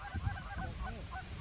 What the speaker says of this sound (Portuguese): Olha um tanto de ganso, cara.